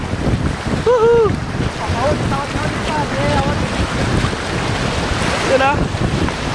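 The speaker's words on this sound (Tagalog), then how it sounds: "Tataas ng alon" Water rushes and splashes steadily as high waves hit a moving boat during water tubing in the rainy season, amid heavy wind noise, with excited whoops and shouts breaking in over it.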